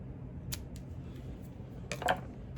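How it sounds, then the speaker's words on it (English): Scissors snip a small slit into a card penny sleeve during a 2005 Topps football card box break, giving two brief crisp cuts over a low steady room hum, with no talking. "And then, for me, I always cut a little slit"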